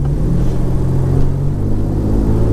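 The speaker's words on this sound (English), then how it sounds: "right now, I'm riding to the wrecking yard" A Nissan R50 Pathfinder's engine rumbles steadily from inside the cabin while driving on the road, a close, loud, low drone with no speech.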